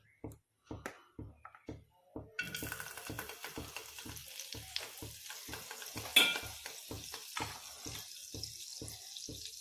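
Butter hits a hot frying pan and bursts into a loud, continuous sizzle, preceded by a run of rhythmic clicking knocks, while cooking a paneer egg capsicum roll.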